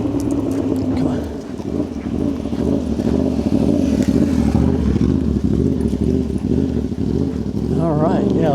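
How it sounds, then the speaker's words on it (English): A motorcycle engine rumbles steadily and loudly nearby on a neighborhood street, with a rising rev near the end. "Loki's very interested in the motorcycle."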